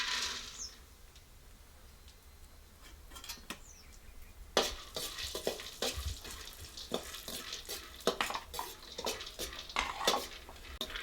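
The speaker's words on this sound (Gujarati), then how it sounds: "હવે આપણે પિસ્તા તળ નાખી." Pistachios frying in oil in a pan for adadiya pak give a low, steady sizzle, then a stretch of frequent clinks and scrapes as a utensil stirs them, close up and with no voices.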